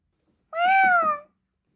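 A domestic cat gives a single clear, drawn-out meow lasting under a second, loud and close in a quiet room with no talk around it.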